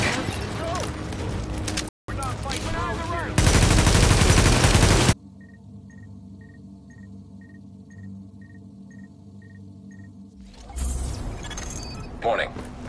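Gunfire in The Division, with a dense loud burst of shooting and rumbling impacts that cuts off suddenly, then quieter game ambience with beeping and a voice talking.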